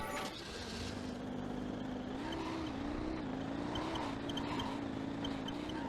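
A racing vehicle engine in the Jak 3 video game holds a steady buzzing drone that rises and wavers with throttle, continuous and fairly prominent, with faint game effects beneath.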